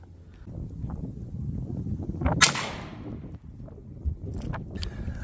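A Hornady .22 WMR pistol round is fired from a rifle into ballistic gel: one sharp, loud crack midway through steady background noise, followed by a couple of faint clicks.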